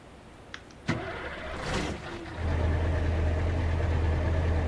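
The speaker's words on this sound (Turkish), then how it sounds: "Tırımızı bir çalıştıralım bakalım." Clicks and a short whirring crank bring a Scania V8 truck engine to life in Euro Truck Simulator 2, settling into a steady, deep idle rumble that continues alone to the end.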